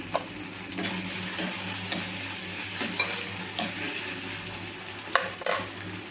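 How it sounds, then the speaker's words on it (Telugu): Soft tomatoes fry in a pan with a little ginger while being stirred, as a base for coriander chutney. A continuous close sizzle carries occasional scraping stirs and a couple of sharper clinks, with no talking. "చూడండి, ఇట్లా మధ్య మధ్యలో ఇట్లా కలుపుతా అయితే వేయించుకోవాలండి"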